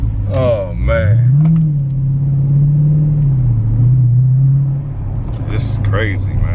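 Dodge Challenger T/A 392 V8 rumbling steadily while driving, a deep sustained engine tone rising and holding near, with someone talking over it at the start and end.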